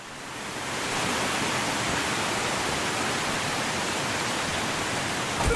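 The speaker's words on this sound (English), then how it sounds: "But the waterfall, they want you to really hear it." A waterfall in The Entropy Centre video game: a steady, dense rushing roar that swells in over the first second and then holds at a constant loud level.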